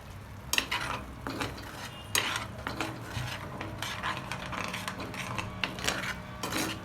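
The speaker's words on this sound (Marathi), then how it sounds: "आता हे मसाला थोडा तेलामध्ये फ्राय होऊ द्यायचा आहे" Masala paste cooking in oil for butter chicken, with repeated sharp clinks and scrapes of a spoon stirring in the pan over a low steady sizzle, close and fairly quiet, no talking.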